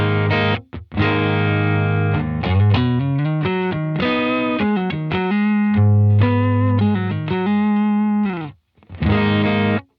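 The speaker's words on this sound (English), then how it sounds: "I use the yellow side of the King of Tone as kind of my bass, sort of edge of breakup kind of tone" Electric guitar through the yellow side of a King of Tone overdrive pedal at an edge-of-breakup setting, playing a sustained run of chords and notes for about ten seconds with brief gaps, loud and alone with no talking.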